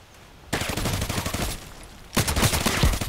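Rapid automatic fire from a G36C rifle in the shooter game Contract Wars, loud and close: a dense burst of shots, a brief pause, then a second burst.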